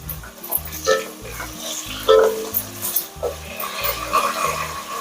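Mint and coriander frying in a pan, a crackling sizzle with stirring scrapes over a repeating low rhythmic hum in the background.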